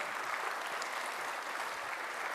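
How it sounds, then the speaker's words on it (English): Audience applause fills a conference plenary hall on the moon at the International Astronautical Congress, a steady dense clapping from a large crowd that holds evenly throughout, with no voices over it. "let's give them a round of applause."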